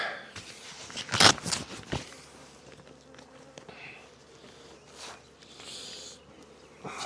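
Honeybees buzz around an open hive during spring colony work, a steady, close hum with a brief louder rustle or knock early on and faint handling noises.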